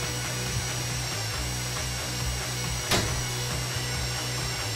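Drill machine grinding through a vault during a bank heist in GTA V, a steady mechanical whine with rhythmic low pulsing and one sharp click near the end, at moderate level with no talk.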